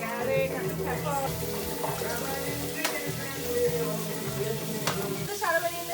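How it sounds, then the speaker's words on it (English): Onions, garlic and pepper frying in a pan, a steady soft sizzle with occasional stirring scrapes running under people talking nearby. "I'm gonna fry up all the onions, the garlic, and the pepper."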